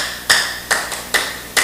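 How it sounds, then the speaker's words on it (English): A small audience of students claps for a classmate during a math livestream, with several short bursts of applause spaced out over a couple of seconds, fairly close and with no talking. "Everybody clap for her."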